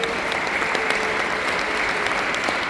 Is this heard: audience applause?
yes